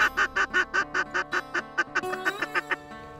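A rapid series of loud, nasal mallard duck quacks, about a dozen in quick rhythmic succession, close by and with no talking.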